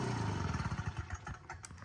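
A small Stihl leaf blower engine runs steadily up close, then sputters and cuts out as a newly added on/off switch is tested, leaving brief uneven bursts near the end.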